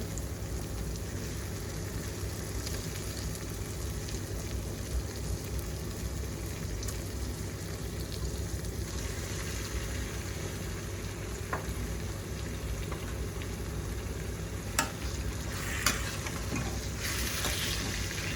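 Chicken sizzling steadily in roasted masala in a karahi, a dense, even crackle of frying with occasional louder pops and stirring, continuous and close throughout.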